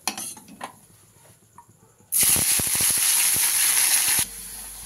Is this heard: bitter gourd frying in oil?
yes